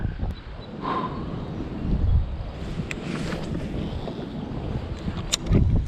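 Heavy wind buffets the microphone on a fishing kayak out on the water, a constant loud rumbling roar with gusting surges and faint water sloshing underneath.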